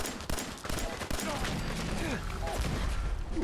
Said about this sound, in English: And we'll get a few good shots off.